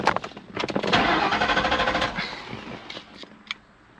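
A 1998 Ford Mustang engine cranks repeatedly without catching, a loud rapid starter-motor churn that runs for a few seconds before tapering off into a couple of brief clicks.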